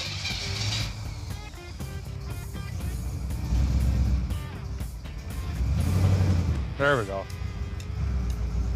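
An old pickup truck's automatic transmission clunks into reverse and then drive while the engine idles and shifts in tone, with people talking nearby and a brief squeal partway through.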